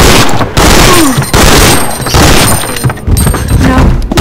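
Loud, rapid gunfire from the video game Resident Evil Outbreak, a dense barrage of overlapping shots and booms with brief lulls, close and continuous across the clip.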